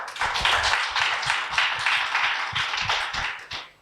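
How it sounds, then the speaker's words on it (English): An audience at a panel discussion applauds with steady, fairly sparse clapping where individual claps stand out, close and loud for under four seconds before fading. "A round of applause, please."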